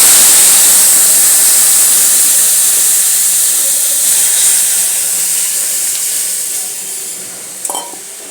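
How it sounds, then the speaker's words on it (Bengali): Boiled sour dal made with dried mango hits a hot pan with a loud, bright hiss and sizzle that slowly fades, ending in a brief clink of a utensil. "তো এবার ডালটা আমি এতে ঢেলে দিচ্ছি"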